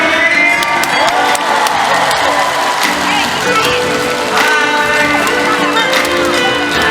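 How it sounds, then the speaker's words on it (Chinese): At a Taipei Nangang concert by a Taiwanese singer, a large audience screams, whoops and cheers loudly and continuously, with bursts of applause and high-pitched shouts. "你们的尖叫声在哪里？"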